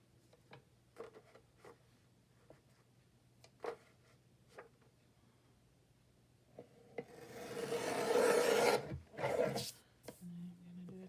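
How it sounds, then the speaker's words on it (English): Paper cutter trimming a file folder for a laptop journal: scattered small taps and handling clicks, then a loud sustained slicing rasp lasting over a second, followed by a couple of shorter scraping strokes. "let's bring in my cutter for a moment. And I'm going to do a trim on here."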